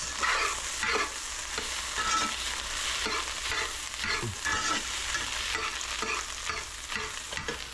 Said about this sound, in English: It's because I've added the peas with all of that moisture in contact with the hot skillet. It instantly evaporates.